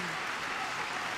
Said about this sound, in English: The family's clapping.